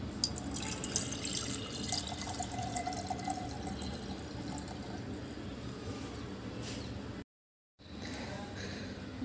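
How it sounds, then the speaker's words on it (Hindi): Tap water runs steadily into a kalash pot set on rice for an Ahoi Ashtami puja, a close continuous splashing and gurgling that fills the whole stretch, with a brief cut near the end. "और कलश में भरना है पानी।"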